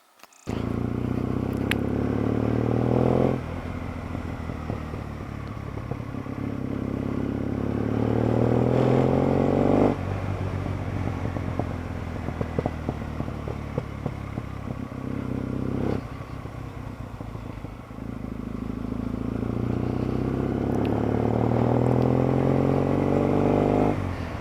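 A Kawasaki W650 motorcycle ridden along country lanes, its engine droning steadily and loudly, rising in pitch through each gear and dropping back on several distinct shifts.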